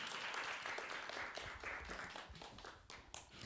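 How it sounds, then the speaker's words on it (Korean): An audience applauds to welcome the head judge at a university education-department program competition, a quiet, distant patter of many hands clapping steadily for a few seconds. "박수로 환영해 주시기 바랍니다"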